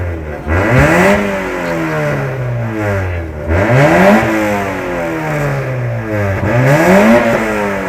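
A car's exhaust revs hard in three repeated bursts at a loudest-exhaust competition during a motor show, with loud, close engine pulls rising and falling over a continuous rumble.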